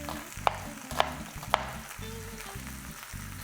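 Sliced onions sautéing in a pan for French onion soup, a steady low sizzle with three sharp clinks of a utensil against the pan near the start.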